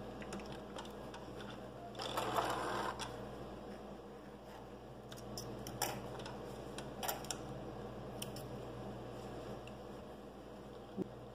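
Sewing machine backstitching a few stitches near the start of a pocket seam on a welt vest pocket, a soft mechanical ticking with a brief louder burst, heard alone in a quiet room.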